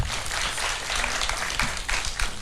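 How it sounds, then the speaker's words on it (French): Applause from an audience at a medal presentation ceremony in Niger, a dense steady wash of clapping that fills the whole moment at moderate loudness with a few sharper swells. "je voudrais qu'on applaudisse pour ce moment inédit."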